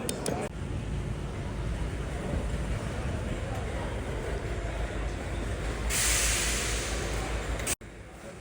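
A Class 455 passenger train rumbles steadily and loudly at close range, with a brief hiss burst near the end before a sudden drop in level.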